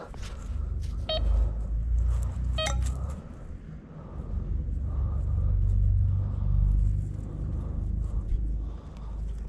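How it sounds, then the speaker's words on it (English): A handheld metal detector scans a spot, giving two short high electronic beeps over a low rumbling background, heard up close with no talk. "I'm gonna scan it with my metal detector and see if that was all it was"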